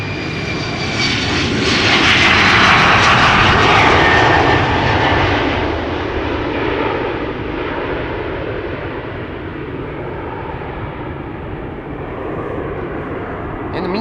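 A heavy Qatar Airways jet takes off from Amsterdam Schiphol, its roar peaking early and then easing into a steady broad rumble that persists to the end, with no one talking.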